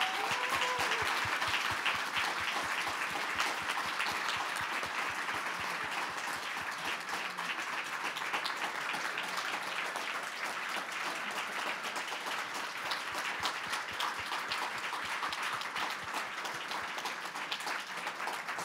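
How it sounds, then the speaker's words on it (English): Steady applause from an audience at the close of a panel event, continuous crisp clapping holding at an even level for nearly twenty seconds, with faint voices early on. "So please give a round of applause to Elisa."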